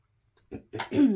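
A couple of short, close coughs from someone with a cold, the last one rougher and throatier, in an otherwise quiet moment.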